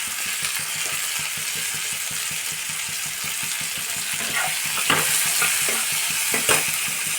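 Tomato and green chili frying for a prawn curry, a loud continuous sizzle close up with rhythmic stirring scrapes and a few sharper clinks near the end.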